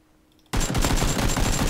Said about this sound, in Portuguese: Vou atirar do prédio.